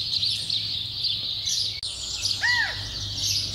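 A quail perched in a tree in a vegetable garden gives a brief, faint chirping call against a steady, hissing outdoor background.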